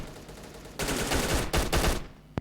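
Bursts of gunfire from a shooter video game, loud and close: a sustained volley followed by several separate rapid bursts, then a single sharp shot at the end.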